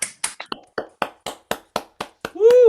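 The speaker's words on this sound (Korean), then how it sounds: "하정현 사장님을 큰 박수로 모셔보도록 하겠습니다" Welcoming claps for a speaker at an online meeting come as about ten crisp, evenly spaced claps in quick succession, close and distinct rather than a crowd's roar, followed by a short ringing tone.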